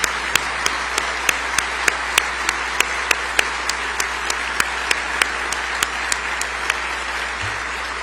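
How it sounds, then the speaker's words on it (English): Audience giving a round of applause for law enforcement officers at a government event, steady dense clapping throughout with a few louder individual claps standing out near the microphone. "let us give you a round of applause"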